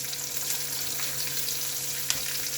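Green chilli drops into hot oil in a frying pan for a vegetarian dish, giving a steady, close, bright sizzle throughout with one small clatter near the end.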